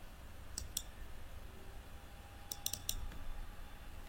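Computer mouse clicks while selecting and cutting text in accounting software: a pair of light clicks near the start, then a quick cluster of three or four more later, faint and close over a quiet room hum, with no talking.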